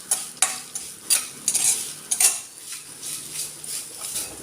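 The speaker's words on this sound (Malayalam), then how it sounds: "ഇതിനി നന്നായിട്ടൊന്ന് വറുത്തെടുക്കണം." Grated coconut with dried chillies and curry leaves roasting in a pan for Kerala jackfruit erissery: a soft sizzle under repeated sharp scrapes and clinks of a spoon stirring against the metal, close and irregular.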